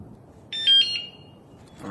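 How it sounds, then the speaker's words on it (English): A Cruxer bicycle alarm with a remote motion sensor gives a short electronic disarming chirp, a brief cluster of high beeps over a quiet, low background hum. "Disarming the bike with the new alarm."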